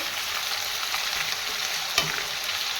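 Potatoes frying in a pan for alu fulkopi bhaja, a steady close sizzle with light stirring and one sharper clack of the utensil near the end, no voices.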